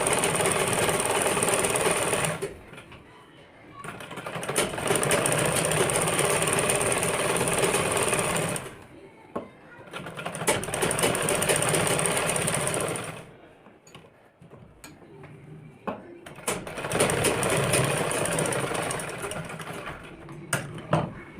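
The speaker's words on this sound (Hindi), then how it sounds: "अब हम इसको इस तरह से पूरे इसके किनारे किनारे पे सिलाई मार देंगे" A sewing machine runs in three sustained bursts of rapid, buzzing stitching along the edges of a kurti collar, each run lasting several seconds and separated by short pauses.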